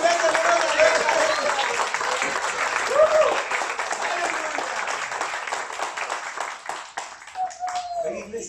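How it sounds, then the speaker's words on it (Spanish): A church congregation applauds for the King during a Spanish-language service, with steady clapping throughout and a voice speaking over it near the end. "Dale un aplauso al Rey"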